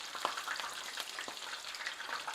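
Shrimp deep-fry in oil at about 350 degrees with a steady, close crackle and fizz, and small pops sound all the way through.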